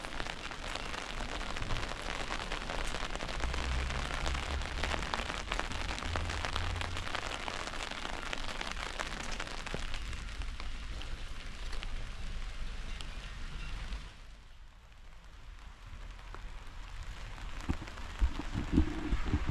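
Steady rain falling through the streets of an old town, a dense hiss of drops hitting pavement and surfaces, easing briefly near the end before picking up again with a few louder taps.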